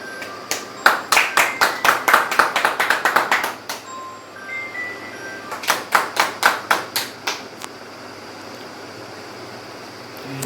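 Workshop audience at a hospitality industry event claps in two bursts of quick, crisp handclaps, the first lasting about three seconds and the second shorter, with a quiet pause between them and no talk.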